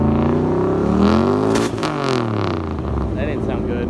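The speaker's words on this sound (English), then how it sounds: "There was a orange Camaro that floored it." Orange Camaro accelerating hard at a drag meet in Nederland, a loud engine roar rising in pitch then easing off, with voices talking over it.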